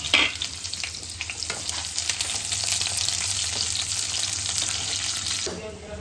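Onions dropped into hot oil with fenugreek (methi) seeds, a loud burst of frying sizzle with stirring scrapes that holds steady, then cuts off abruptly near the end.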